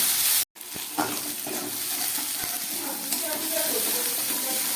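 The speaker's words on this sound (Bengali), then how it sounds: "খুব ভালো করে আমি ভেজে নিলাম।" Tomato and other ingredients for masala chickpeas fry in a pan with a steady close sizzle after a brief cut, while someone speaks over it.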